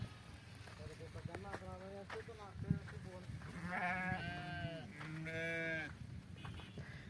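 A sheep bleats several times in drawn-out, wavering cries, with people talking nearby in between, around milking time.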